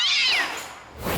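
A single cat meow as a comedic sound effect, a clear, close, drawn-out falling cry followed by a short noisy burst at the end.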